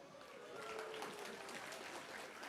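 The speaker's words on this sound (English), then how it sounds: "I'm glad you understood that you were going to applaud there" Audience applause at the GKSS Match Cup Sweden 2017 prize-giving ceremony, a steady, fairly faint wash of clapping with a voice speaking over it.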